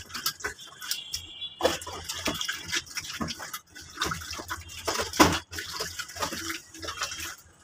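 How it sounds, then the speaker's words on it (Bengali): Stinging catfish being rubbed and stirred by hand in water with baking soda, giving steady close splashing, sloshing and dripping sounds with repeated wet swishes throughout. "দিয়ে এখন জাস্ট নাড়াচাড়া করে মাছগুলো আপনাদের পরিষ্কার করে রাখবো"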